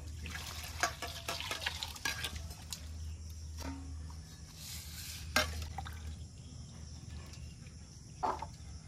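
Cut potatoes being washed by hand in a bowl of water, giving soft, steady sloshing and stirring with a few sharper splashes and clinks, close by with no talking.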